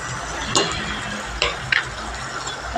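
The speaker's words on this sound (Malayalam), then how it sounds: "അതിൻ്റെ പച്ചമണം പോകുന്നവരെ ഒന്ന് ഇളക്കി കൊടുക്കാം" Spices for a curd curry being stirred in a pan, a low steady sizzle with a few sharp scrapes and taps of the spoon against the metal.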